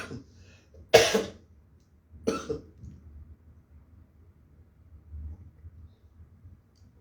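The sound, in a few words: cough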